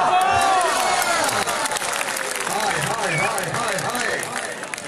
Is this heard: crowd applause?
yes